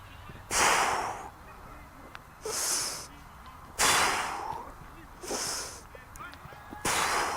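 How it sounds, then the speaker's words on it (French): A person breathing during pull-up exercise practice, five loud, close, breathy bursts spaced at fairly regular intervals, with quieter room noise between them. "J'inspire."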